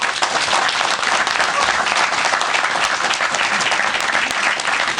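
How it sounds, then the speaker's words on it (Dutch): A studio audience on a Frisian music television show bursts into loud, continuous applause, thick and even throughout, with no voices over it. "Ja, applaus."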